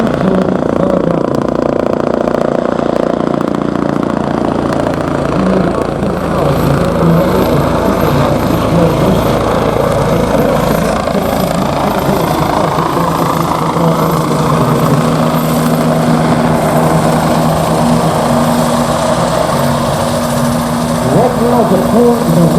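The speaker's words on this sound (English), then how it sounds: "Featuring now the Bell 429 Global Ranger helicopter. This is a 4-blade, single-engine, civil-utility helicopter." A Bell 429 Global Ranger, a four-blade single-engine civil utility helicopter, runs at an airshow with a continuous loud engine and rotor drone, steady and close, with a faint hum layered underneath.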